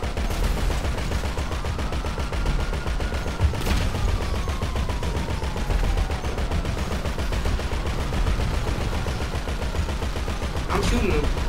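Rapid gunfire during a shootout in Grand Theft Auto V, dense overlapping bursts and automatic fire running continuously and loud, with a couple of sharper single cracks standing out.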